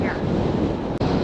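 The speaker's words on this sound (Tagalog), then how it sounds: "Ang lakas ng hangin, ano?" Strong seaside wind on the coast near Santa Maria, Ilocos, blows as a steady, dense roar of wind buffeting the microphone, with a brief dropout near the end.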